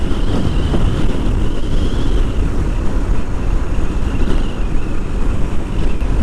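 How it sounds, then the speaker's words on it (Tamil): Hot wind rushing past a rider on a Yamaha R15 V2 motorcycle on the road to Coimbatore, a loud, steady, buffeting roar of wind on the microphone that swells and dips without pause and carries no speech. "அந்த அனல் காற்றுனோம்ல லைட்டாக ப்ரீஸியாக அடிக்குது"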